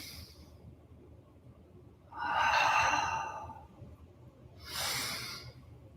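Two deep, slow breaths during a beginner yoga flow: a long, airy inhale-exhale rising and fading, then a second shorter breath after a brief quiet pause, close and clear with no speech.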